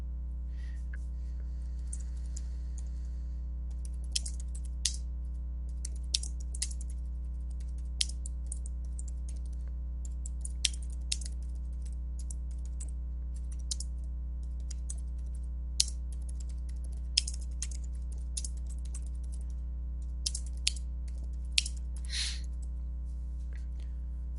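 Irregular bursts of keystrokes on a computer keyboard tap out over a steady electrical hum, some presses sharper and louder, with short pauses between runs of typing.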